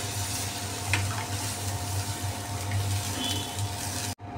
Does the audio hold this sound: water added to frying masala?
yes